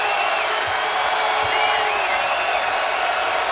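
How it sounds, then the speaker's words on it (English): Spectators in a college basketball arena during a Maryland versus Iowa State final raise a sustained, roaring crowd noise, a broad steady din of cheering voices filling the space. "And in an instant, the crowd comes alive."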